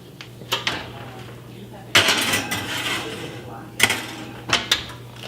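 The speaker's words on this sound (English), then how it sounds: "Now let's pop these in the oven." A pan holding two turkey tenderloins slid into a home oven: several sharp metallic clanks and knocks of pan and oven rack, with a louder bang near the middle and more clatters toward the end.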